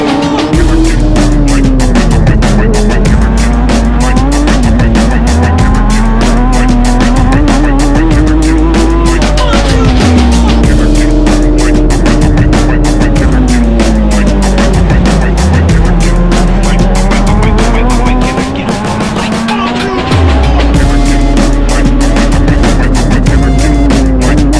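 Open-wheeler race cars roar around the Calder Park circuit in Australia at a round of the Australian Drivers' Championship. Several engines blend into a loud, continuous, close-up din, with pitch rising and falling as the cars accelerate, shift and pass.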